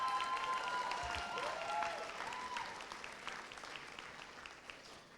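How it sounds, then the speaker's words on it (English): Students and families in a high school auditorium applaud at a commencement ceremony, a sustained, fairly faint wash of clapping with a few whistles early on that gradually tapers. "How about a round of applause for that group of students?"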